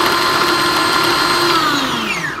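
A food processor whizzes ginger and garlic cloves, a steady loud motor whine with bright harmonic tones that drift slightly downward as it begins to slow at the end, no talking.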